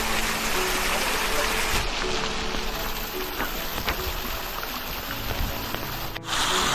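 A mountain stream tumbles down a steep little hillside in remote Sikkim, giving a steady, dense rushing hiss that stays loud and close throughout, with no voices.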